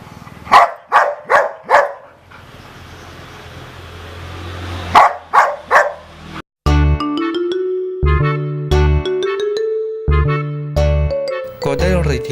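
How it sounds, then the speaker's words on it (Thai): A golden retriever barks several times in close succession, loud and near, then again after a pause, followed by a bright electronic jingle with a chiming melody. "จะพาไปรู้จักกับสายพันธุ์โกลเด้นรีทิเวอร์หมาหน้ายิ้มอารมณ์ดี"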